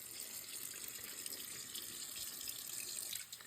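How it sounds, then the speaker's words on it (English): Cold water from a tap pours into a pot that has just boiled, a steady broadband rush of running liquid filling the whole moment, close and even with no voices. "I am putting some cold water on here"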